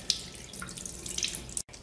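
Water runs steadily from a kitchen or bathroom tap to dissolve a sheet of soap paper, a continuous close splashing hiss that cuts off abruptly near the end.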